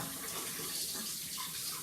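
Tap water runs steadily from a faucet in a kitchen as a cup is rinsed clean, a close, continuous hiss of flowing water heard alone for a couple of seconds.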